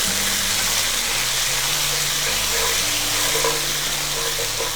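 Water hits frying chana pulao in a hot pot, and a loud, continuous sizzle and bubbling sound up close, with no speech heard.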